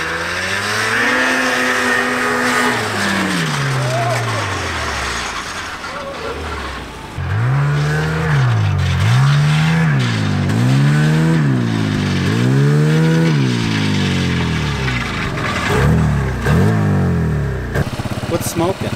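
A 1987 Yamaha Exciter 570 snowmobile engine revs hard close by, first climbing and falling in long sweeps, then in a rapid series of repeated throttle blips, with people talking around it.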